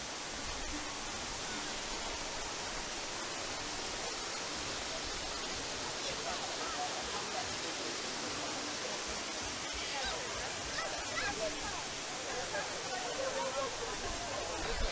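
A constant broadband rush of falling water from the lit-up waterfalls in the Pandora, The World of Avatar theme park, moderately soft and unbroken, with faint crowd voices beneath.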